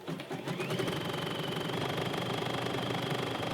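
Sewing machine back stitching a fabric scrunchie with about a quarter inch seam, a fast steady mechanical chatter close by with a thin whine over it, heard alone.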